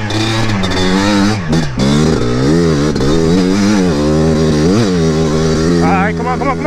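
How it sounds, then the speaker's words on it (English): An engine on a cheap midsize quad ATV revs hard and close on a dirt track, with a loud, buzzy pitch that climbs and drops repeatedly through gear shifts while someone talks over it. "Power is very peaky and it's very fast when you're revving the engine out"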